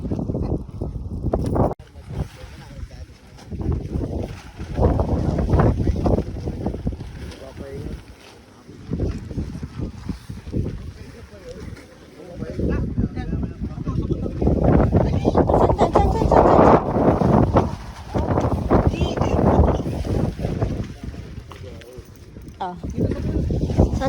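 Strong wind buffets the microphone at a campsite in a nature park, roaring in irregular gusts throughout while people talk over it.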